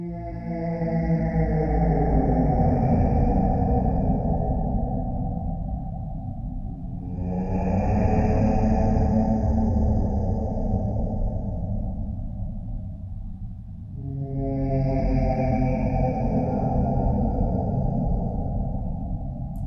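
A deep, droning hum from singing sand dunes swells and fades in three long waves, with a faint high whine above, washed in a spacious, echoing reverb.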